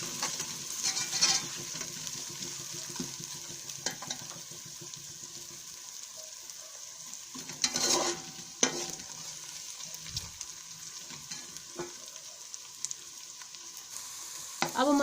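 Ginger garlic paste and onions frying in a pan, a steady soft sizzle with a spoon scraping and stirring now and then, close by and without speech.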